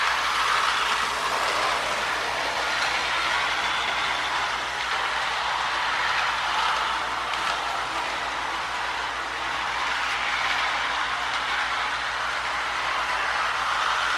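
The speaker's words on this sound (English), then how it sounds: "And just for fun, we'll add another trolley. This one's powered by a Marx motor." A tinplate Paya toy trolley driven by a Marx motor runs along its track with a steady, loud mechanical whir and buzz and a faint constant hum underneath, continuous and uninterrupted, with no one talking.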